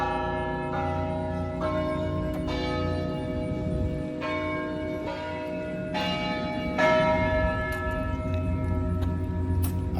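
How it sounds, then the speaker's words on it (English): Beta Bells carillon on the Miami University campus ringing out, a sequence of struck bell tones with long ringing decay, moderately distant and alone. "the Beta Bells."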